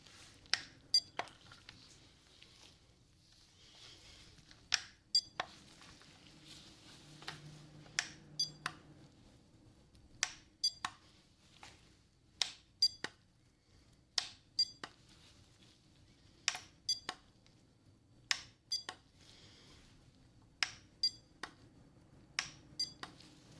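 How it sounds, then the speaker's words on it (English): Short, sharp electronic beeps in an ASMR ear exam hearing test, spaced at irregular intervals over a quiet background, some in quick pairs, each crisp and close. "I'm gonna make a beep sound in your ear"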